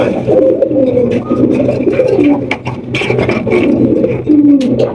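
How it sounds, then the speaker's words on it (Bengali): A pair of black Lakha pigeons coo loudly and close by in a continuous run of throaty, rolling coos that overlap with no pause, and no voices are heard. "হচ্ছে একজোড়া ব্ল্যাক লাখা কবুতর"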